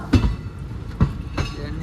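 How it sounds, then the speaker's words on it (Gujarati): A moving train rattles steadily, with three heavy clunks of wheels crossing rail joints at roughly even intervals over a constant rumble. "ફાઇનલ ટ્રેનમાં બેસી ગયા છીએ"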